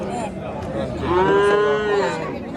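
A single cow gives a long, loud, drawn-out moo at a Qarshi livestock market in Uzbekistan, with faint murmur of the crowd around it.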